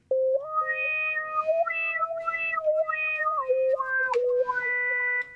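A synthesizer is played with its modulation shaped so it sounds like a cat meowing. It makes a clean harmonic tone that slides and bends through a wavering, meow-like phrase for several seconds, loud and close, with no talking over it.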